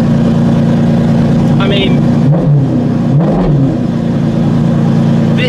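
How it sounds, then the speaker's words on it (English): A Maserati MC12 Corsa race car engine runs loud and close, holding a steady mid-pitched drone with a couple of sharp throttle blips, while someone talks over it. "the sound of the MC12 from Edo Competition"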